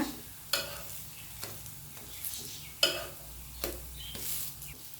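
Bottle gourd vadai frying in hot oil, a steady sizzle broken by several sharp, louder bursts and crackles spaced a second or so apart, close by with no talking.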